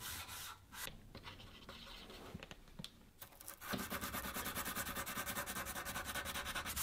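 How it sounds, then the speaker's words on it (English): Hand sanding works along a Damascus chef's knife blade at the bolster transition, first in uneven rubbing strokes, then settling into a fast, steady back-and-forth rasp that stays close and alone. "This is the part of the blade that took the longest to hand sand"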